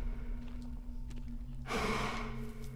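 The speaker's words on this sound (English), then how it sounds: "I hear him snoring" A monster snores heavily in the horror game Wick, with one loud rasping breath partway through rising over a quiet, humming background.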